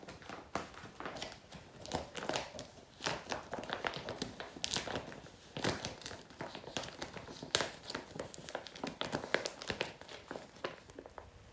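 Plastic vacuum storage bag full of sweatshirts being sealed by sliding its attached clip along the closure, giving a close, busy run of crinkling, rustling and crackling plastic with brief sharp snaps, steady throughout.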